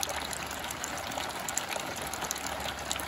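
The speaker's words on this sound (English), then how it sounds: "Oh, look at the cute water bubbles." Water bubbling and trickling in a pet drinking fountain, a steady, close, continuous gush with no voices over it.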